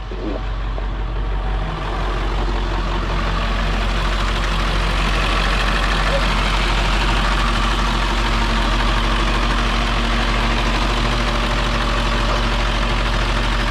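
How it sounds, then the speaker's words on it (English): The diesel engine of a converted bus starts and then settles into a steady, loud, low idle that rumbles on without a break, with no talk over it. "You gotta wait to start with these diesels."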